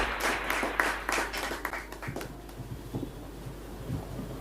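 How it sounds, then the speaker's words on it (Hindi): A theatre audience at Rang Adda in Patna applauds the actors after a play. Dense, close clapping is strongest at first, then thins to scattered claps and fades out. "मैं एक बार जोरदार तालियों से सभी कलाकारों का हौसला एक"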